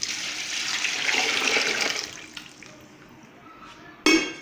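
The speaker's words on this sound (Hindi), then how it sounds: "ये पानी ऐड करेंगे।" Water poured into cut pieces of pumpkin for a pumpkin sweet, a steady splashing stream for about two seconds that tapers off, then a short clatter of a pot or utensil near the end.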